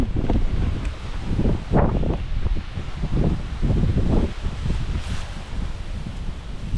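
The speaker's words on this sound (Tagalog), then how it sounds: "pagkalakas-lakas ang po ng hangin" Strong wind roars continuously and buffets the microphone in heavy, rumbling gusts, with faint rustling underneath, in a sweet potato field.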